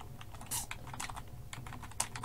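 Rapid typing on a computer keyboard while writing C++ code, a steady run of close, crisp key clicks with a few sharper strikes, no voices.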